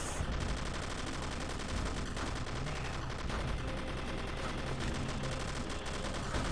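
Machine gun fire in the World War II game Commandos: Strike Force, a loud, dense and sustained rattle of automatic shots with battle noise behind it, no speech.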